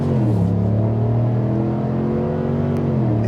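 A 2025 GMC Sierra 1500 Denali Ultimate pickup accelerates hard in sport mode, its engine a loud, steady low drone climbing gradually in pitch, close and without talk.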